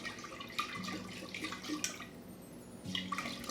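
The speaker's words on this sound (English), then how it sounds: "when you go and swirl it all around like I'm doing, it gets up on the sides of the jars" Sugar water swirls around inside a glass jar, giving soft, close sloshing and trickling liquid sounds in a few uneven surges with faint glassy clinks.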